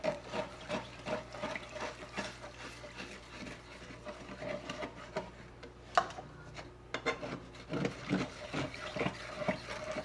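Stirring heavy whipping cream sauce in a pan on low heat, a spoon scraping and tapping against the pan in soft irregular strokes, with occasional louder clinks, no talking.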